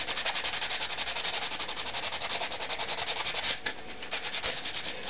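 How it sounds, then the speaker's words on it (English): Sandpaper rubs over custom fixed-blade knife grips in quick, steady back-and-forth strokes, a close, continuous scratchy rasp with no talk. "I'm going to get some sandpaper and touch up these grips."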